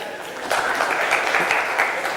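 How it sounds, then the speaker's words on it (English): An audience applauds a founder's talk, breaking into a burst of steady clapping about halfway through that holds fairly loud to the end. "in case if you can give me a big round of applause"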